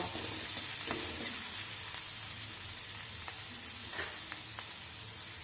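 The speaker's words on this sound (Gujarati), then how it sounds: "ડુંગળી ગોલ્ડન બ્રાઉન થાય ત્યાં સુધી તેને આપણે સારી રીતે સતળાવા દેશું" Chopped onion sautés in hot oil toward golden brown for a Kathiyawadi dahi tikhari, a steady close sizzle and hiss with occasional stirring scrapes and a few small pops.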